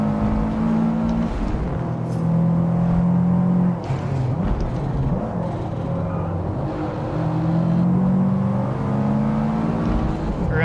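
A race car in Forza Motorsport on PC accelerates and shifts through gears, the engine tone rising and dropping repeatedly at a steady moderate level, with a faint voice underneath.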